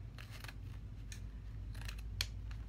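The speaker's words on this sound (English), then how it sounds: "So you're always going to cut this at an angle." Scissors snip ribbon at an angle to shape bow tails, giving a few quick crisp cuts close by over a low steady room hum, with no talking.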